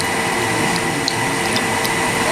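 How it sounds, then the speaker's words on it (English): Deionized water is transferred in a lab by pump, a steady broadband rushing and gurgling flow that continues evenly throughout at fairly loud volume. "DI water is almost completely transferred"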